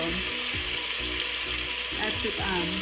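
Oxtail browns in a hot pan with a loud, close, steady sizzle, and the sputtering changes as the pieces are turned and shifted.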